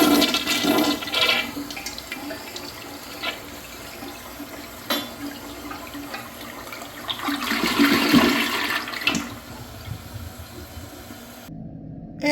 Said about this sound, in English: that is the second generation Kohler Barrington toilet